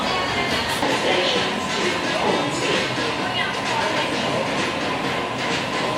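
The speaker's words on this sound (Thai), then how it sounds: "ชอบรถไฟซิดนีย์" A double-decker Sydney train rolls along with a steady, loud rumble and rattling wheel noise, a continuous close drone with faint voices underneath.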